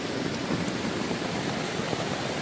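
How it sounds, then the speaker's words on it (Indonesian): Heavy rain at a riverside campsite, hammering steadily on and around a tent with water getting inside, a dense, close, unbroken roar of downpour with a few sharper drop hits. "Hujan sangat deras teman-teman."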